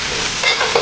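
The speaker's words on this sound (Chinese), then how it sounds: "这个是昨天刚弄好的猪油，爆香。 这个蒜头，加入腊肠跟牛肉。" Garlic, Chinese sausage and beef hit hot lard in a wok and sizzle loudly, with a continuous frying hiss and the scrape of stirring, no voices.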